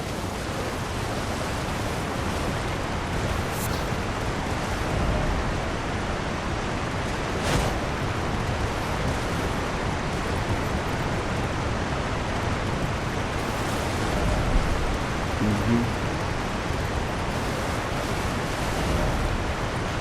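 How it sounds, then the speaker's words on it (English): Steady broadband rush of a waterfall in the video game Elden Ring, a constant full roar with no speech, holding level throughout. "Let's look at this waterfall again."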